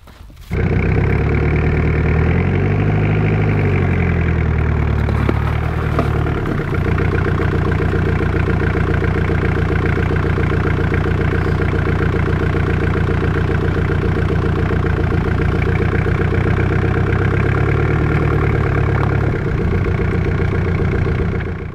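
A Jeep engine runs loud and steady in deep snowdrifts, rising in pitch as it strains against the wheels being stuck, then settling back to a rumbling idle, alone and close throughout.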